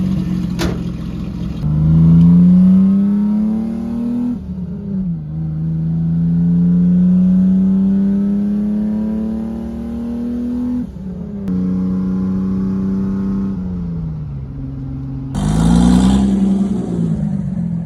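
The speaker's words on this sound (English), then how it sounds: "get in there and start that car" A Ford Thunderbird engine cranks, catches and runs, a loud close droning rumble that swells and dips with throttle and ends with a sharp rev burst, with no voices.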